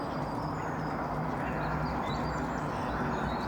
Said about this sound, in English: if I'm quiet, all you can hear is the birds.